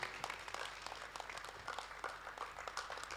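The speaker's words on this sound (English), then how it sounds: "A hand of applause to" Conference audience applauding at the Africa Quantity Surveying Week, June 2025, a faint, dense wash of many hands clapping continuously and heard from a distance.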